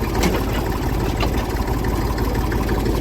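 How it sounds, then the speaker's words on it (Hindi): A tractor pulling a trailer cart (buggy) runs in top gear, its engine a steady, loud, continuous low rumble close to the silencer, with no break in the drone. "टॉप गियर में चल रहा है और बिल्कुल साइलेंसर पर ये आवाज है ट्रैक्टर की"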